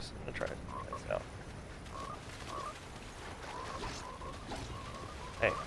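Frogs croak in a video game, with short scattered calls that are fairly faint over a quiet background hum, ending in a brief louder burst.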